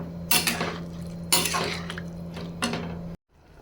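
Rice and moong dal tipped into a cooking pot for khichdi: three rattling, clattering bursts of grain against metal over a steady low kitchen hum, cutting off abruptly near the end.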